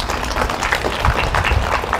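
Scattered applause and clapping from a church congregation during a service, a moderate, steady patter of many hands close by.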